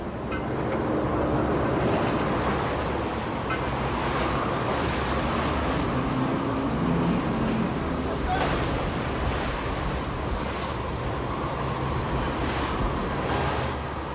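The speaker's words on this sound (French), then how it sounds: "ballotté, bousculé par les vagues comme un jouet d'enfant" Continuous heavy rush of sea waves and wind hitting a fishing trawler, with periodic surges of water washing past, loud and unbroken throughout.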